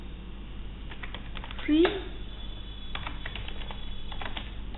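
Keys on a computer keyboard are tapped in a short run of quick clicks, close by, under and between a person's speech.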